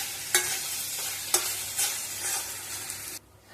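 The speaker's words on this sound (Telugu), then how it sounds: "రైస్ యాడ్ చేసుకున్నాక రుచికి సరిపడిన ఉప్పు వేసుకొని మొత్తం అంతా కలిసేలా కలుపుకోవాలి" Vegetable fried rice with soy sauce and salt is tossed in a hot pan, making several scraping stirring strokes over a light sizzle, close and clear, until the sound cuts off abruptly.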